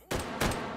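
Two sharp gunshots from the VR shooter Hot Dogs, Horseshoes & Hand Grenades, the first at the start and the second just under half a second later, each with a ringing tail and no talk over them.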